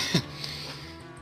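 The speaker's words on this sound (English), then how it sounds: "I gotta freaking clear my throat every 5 seconds." A man clears his throat once, a short, rough burst near the start, followed by quiet room tone.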